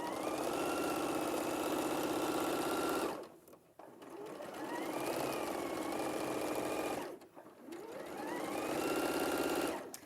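A domestic sewing machine stitches fabric in two steady, loud runs of whirring motor hum, each slowing and stopping briefly before starting up again.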